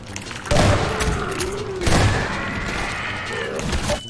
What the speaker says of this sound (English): I can literally shoot it away.